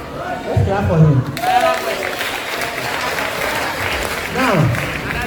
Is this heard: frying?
no